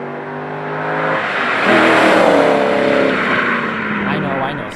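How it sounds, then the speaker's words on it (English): C5 Corvette engine with a Borla S-Type exhaust, a deep rumbling drone that swells as the revs climb and then eases off, loud and close, with a voice talking over it. "I talked about and reviewed the Borla S-Type exhaust that was on my C5 Corvette."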